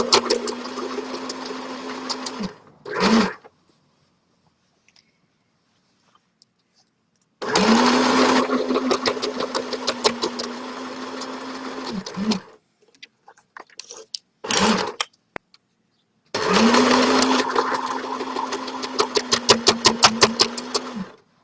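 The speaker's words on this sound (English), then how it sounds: "My little machine struggles a little bit on the thicker parts." A small sewing machine stitches thick fabric for a tie-dye shopping bag, running in three separate bursts of steady motor hum and rapid needle clatter a few seconds each, with quiet pauses and brief short runs between them.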